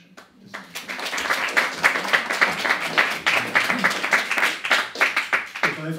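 Audience applause after a speech at a panel discussion on Hungary, a hall of steady clapping that swells quickly and carries on for several seconds before a voice begins at the end.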